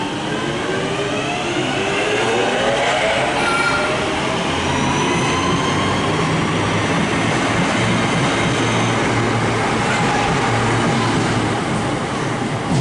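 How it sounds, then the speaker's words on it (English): A Northern Rail electric unit pulls out of Stockport station on the West Coast Main Line, its motors rising in a steady whine as it gathers speed. The rolling rumble stays loud and close the whole time. "next train to depart is the 11:57 Northern service to Stoke-on-Trent from Manchester Piccadilly"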